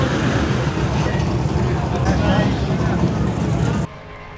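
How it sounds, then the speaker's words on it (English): A Toyota Hilux drives past at a Power Cruise car event in Queensland: loud, steady road and engine roar filling the scene, cutting off abruptly near the end. "Oh, that's a fucking Hilux. And there's another fucking Hilux."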